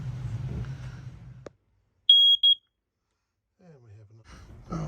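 A smoke detector aboard a sailboat gives two short, shrill, piercing beeps between stretches of silence, with a brief low voice before and after.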